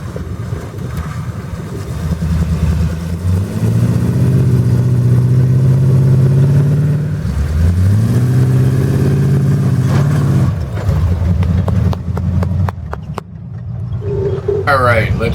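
An off-road truck with rear dual wheels revs hard while trying to climb over a lip. The engine rises and falls in loud, strained surges with a pause between them. Voices talk over it, and sharp clicks and clatter follow as it settles.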